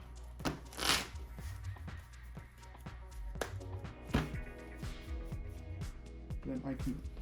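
Pokemon TCG cards shuffled by hand at a tabletop game, a run of quick papery riffles and taps over several seconds, close up, with a person talking over it.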